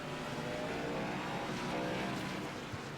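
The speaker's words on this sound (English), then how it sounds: "giving a congratulatory rev up there" A race car in the iRacing video game, the Hogback 150 of the TWIGI iRacing Series, gives a steady, loud engine roar with a slight rise in revs, heard alone without voices.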